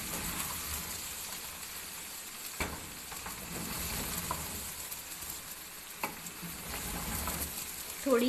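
Chopped carrots sizzle and fry steadily in a pan for restaurant-style Chinese pulao, with a few sharp scrapes and clatters from stirring breaking through the constant hiss.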